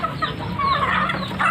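Chickens cluck and murmur at close range in a continuous busy chatter, in a flock that is sick and sneezing during the rainy-season change of weather.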